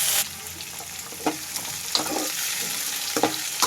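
Garlic, chilli and onion fry in a pan with a steady close sizzle, broken by soft scraping stirs every half second or so.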